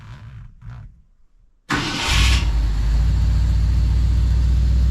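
A 1970 Ford truck engine cranks and catches, then settles into a loud, steady rumbling idle with a brief high rush as it fires up, after a quiet stretch of faint background noise.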